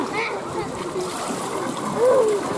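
Water splashes on a beach holiday in Gran Canaria, a short burst of splatter rising near the end, with a voice and other talk over a steady watery background.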